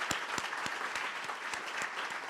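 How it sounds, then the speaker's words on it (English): Round of applause for awardees at a celebration night, steady crowd clapping with sharp individual claps standing out, fairly even and sustained. "Let's give another round of applause to all the awardees."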